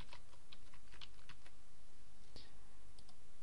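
Keys clattering on a computer keyboard as a search query is typed, scattered quick clicks in small clusters over a steady background hiss.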